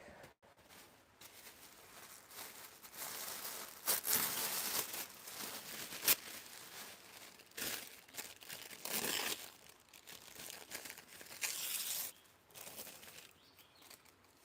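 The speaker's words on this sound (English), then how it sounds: "I'm gonna add some more tissue paper." Tissue paper is crumpled and crinkled by hand while making handmade cards from scraps, in irregular close bursts of rustling with short pauses between them and no talking.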